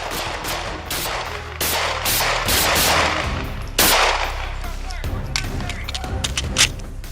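Gunfire exchanged between police officers and an armed suspect firing a black handgun, with several loud, sharp bursts of shots at irregular intervals mixed with shouting voices.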